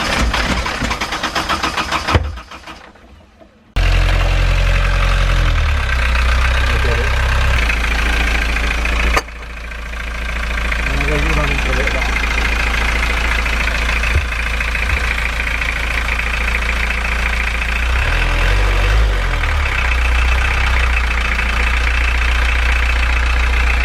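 Narrowboat diesel engine with a suspected fuel airlock: a loud, close, steady idling rumble that cuts out briefly near the start, then restarts and keeps running with shifting tone and occasional knocks. No speech.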